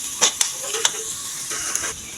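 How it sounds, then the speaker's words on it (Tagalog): Onion and garlic sautéing in oil in a pan, with a steady soft sizzle and hiss broken by a few sharp clinks of stirring. "Isayin lang natin yung ating sibuyas."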